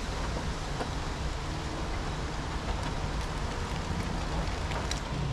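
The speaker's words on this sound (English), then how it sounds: "it's still raining" Steady rain falls outside a parked VW T4 Transporter van at night in Devon, a soft continuous patter with faint scattered drips and no voices.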